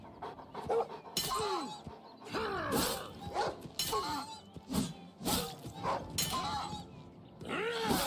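A dog creature in Oblivion Remastered pants, snarls and growls in repeated ragged bursts, close and fairly quiet, with brief pauses between them.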